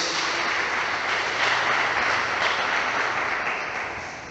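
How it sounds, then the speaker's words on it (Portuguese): A church congregation claps together in a sustained, dense burst of applause that swells and then slowly fades, with no talk over it. "dando uma salva de palmas para Jesus"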